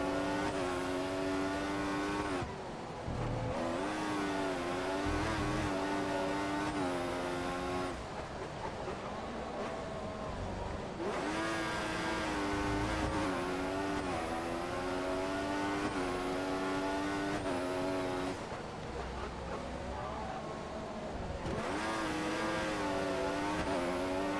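A Formula 1 car engine in F1 2014 screams loudly and steadily through the gears, its pitch climbing and dropping with each shift over a continuous, close high-revving whine.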